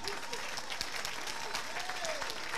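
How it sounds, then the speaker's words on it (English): A church congregation claps for the pastor during a sermon on the fear of God. Sustained, fairly distant applause fills the room with scattered sharper claps, and a voice is faintly audible underneath. "Can you clap for Pastor?"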